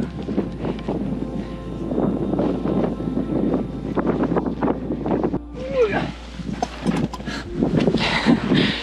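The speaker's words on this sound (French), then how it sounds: "Avec toujours un peu de vent" Steady wind buffets the microphone in a continuous low roar throughout, with a few rustles and bumps, and a brief higher rushing gust near the end, on a hiking trail among the Auvergne volcanoes, France.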